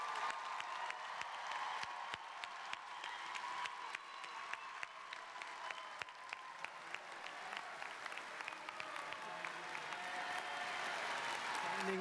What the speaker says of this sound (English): a big, big round of applause for all of the graduates